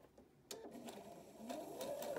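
A domestic sewing machine stitches a straight rectangular fabric edge onto a half-circle piece for a scrub-style cap, running in short bursts that grow steadier and louder toward the end, with no voices.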